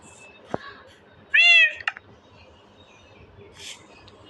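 A cat meows once, clear and fairly loud, inside the Minecraft video game, with a brief click before it and a few faint chirps afterward.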